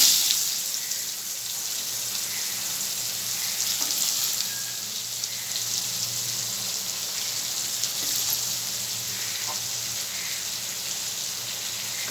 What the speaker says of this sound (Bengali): তেলে পেঁয়াজ কুচি দিয়ে দেবো আমি